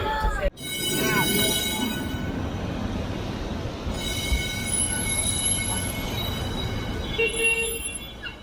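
High-pitched squealing of metal wheels grinding on rails, several sustained screeches over the loud rumble of Lisbon's old Tram 28 rolling through hilly streets, with some chatter underneath.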